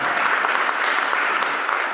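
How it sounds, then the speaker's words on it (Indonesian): Audience at a thanksgiving church service applauding, dense continuous clapping from a large crowd, loud and even, with no break over the whole span. "Mari kita tepuk tangan untuk dana."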